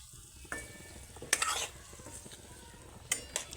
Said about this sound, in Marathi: तर आता हे वाटाणे पण व्यवस्थित मिक्स करायचे आहे